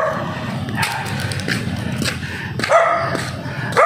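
A dog on a residential subdivision street in Caloocan, Philippines, gives a few sharp barks and yelps at moderate distance amid continuous outdoor ambience.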